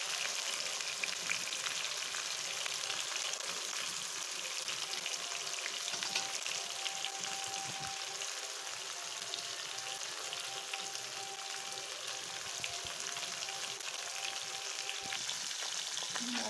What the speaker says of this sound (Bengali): আমি এখন সুন্দর মতো মাছগুলোকে ভেজে নেব লাল লাল করে